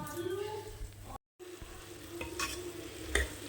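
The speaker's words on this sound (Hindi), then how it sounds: "सिर्फ आलू जीरे का तड़का डाला है मैंने इसमें" Potato and cumin tempering sizzles in a pan for a simple pulao, a soft steady frying hiss with occasional stirring scrapes, fairly quiet and close.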